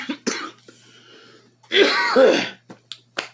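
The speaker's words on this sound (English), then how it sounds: "Sorry about all the coughing." Several coughs up close: short sharp bursts, then a longer harsh, wheezy coughing fit in the middle, and a few brief coughs trailing off.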